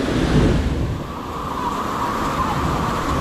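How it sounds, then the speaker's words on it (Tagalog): Strong waves churn during Typhoon Carina in North Caloocan, a loud, steady broadband roar of rushing water and wind with no voices. "Napakalakas ng alon."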